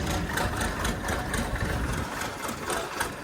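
A tractor engine idles steadily nearby, a low rumbling chug with a regular mechanical pulse and no talking.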